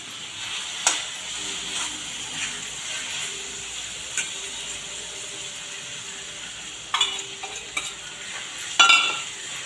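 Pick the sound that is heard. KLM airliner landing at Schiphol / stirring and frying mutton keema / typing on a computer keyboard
stirring and frying mutton keema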